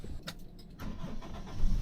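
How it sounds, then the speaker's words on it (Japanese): A car engine cranks and catches, a brief starter whir followed by a low idle that swells louder toward the end, heard nearby with no talking, as a driving charger is being set up. "エンジンかけて。"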